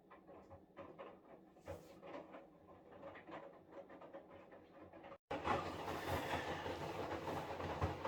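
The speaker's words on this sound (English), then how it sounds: "This is about the noisiest it gets with the rinse of the water with the clothes folding over." A Haier 10 kg washing machine on its second rinse, clothes tumbling and folding over in water, makes a steady low churning rumble that abruptly swells louder and brighter about two-thirds of the way through.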